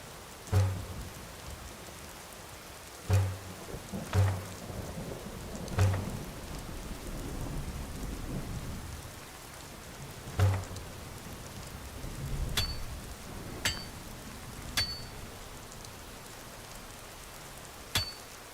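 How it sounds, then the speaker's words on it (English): Rain in the Skyrim video game falls as a steady hiss, with several deep thunder rumbles and sharp cracks spread through it and no voices. "a little hard to light the fire in the rain, I would think."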